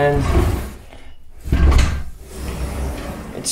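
A newly installed sliding door glides along its track, giving two loud rolling, rumbling passes separated by brief pauses, close by and with no talking.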